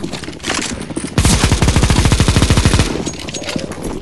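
Sustained automatic gunfire in a CS:GO zombie escape map: a short burst, then a dense rapid rattle of shots lasting nearly two seconds before fading into scattered fire, loud and up close.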